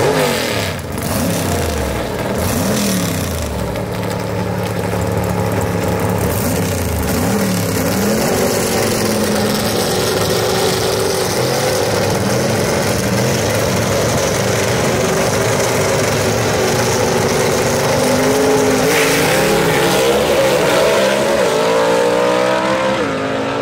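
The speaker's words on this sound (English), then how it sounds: "Third pair out, going to find your number 1 qualifier, Leslie Horn, in the quick time performance lane" Southeast Gassers drag race cars at London Dragway roar without a break, a loud, continuous engine drone with rising and shifting revs, sustained at full volume for over twenty seconds.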